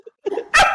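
A voice imitates a dog barking in DMX style, a short low growl rising into one loud, hoarse bark, close and alone.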